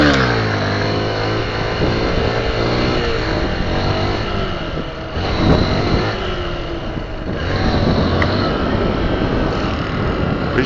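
A motorcycle engine roars steadily throughout, revving up and down in pitch with continuous loud harmonic drone, briefly easing off midway before climbing again.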